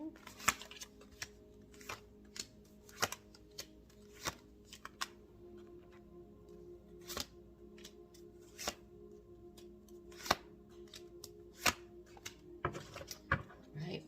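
Tarot cards shuffled in repeated sharp riffling bursts, close and fairly quiet, spread across a steady low hum of room noise.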